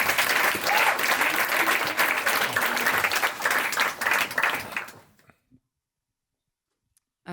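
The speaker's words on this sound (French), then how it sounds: "Merci d'applaudir très fort Maya." An audience at a testimony event applauds loudly for about five seconds, dense crowd clapping that stops abruptly and leaves near silence.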